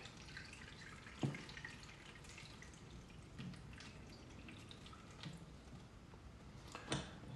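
Water pours and drips into a bag that holds about 2.3 litres, a faint, continuous trickle broken by a few sharper drips and splashes, quiet and close.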